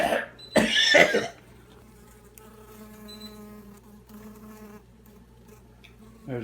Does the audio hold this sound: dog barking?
no